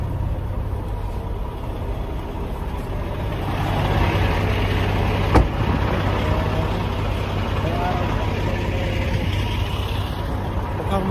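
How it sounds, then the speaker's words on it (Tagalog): A truck's engine idles with a steady low rumble while the truck is turned around, joined by a sharp brief hiss midway. Someone speaks over the drone throughout. "Kaya ikutin muna natin yung truck natin"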